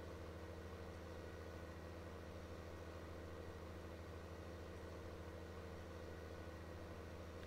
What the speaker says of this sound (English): the plow kind of likes to slide around a little in here